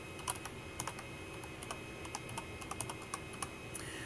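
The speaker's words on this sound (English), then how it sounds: "type in the word capability" A word is typed on a computer keyboard as scattered, fairly faint key taps over a steady background hiss and hum, the clicks coming in small irregular clusters with no speech.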